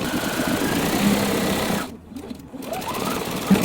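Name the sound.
sewing machine stitching half-square triangle quilt seam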